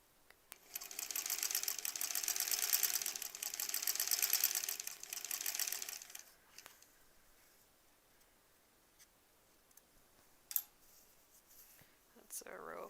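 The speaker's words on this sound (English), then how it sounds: "I'm going to sew row one, or like the first part to the second part" Sewing machine stitching quilt block rows, a fast close mechanical rattle running steadily for about five seconds before stopping, followed by quieter handling clicks and rustles.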